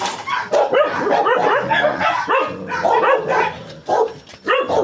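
Several dogs bark and yip in quick, overlapping bursts at feeding time, with some whimpering between them. The barking is loud and close, and little or no talk is heard.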